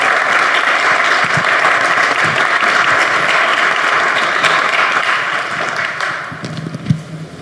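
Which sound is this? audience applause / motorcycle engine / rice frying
audience applause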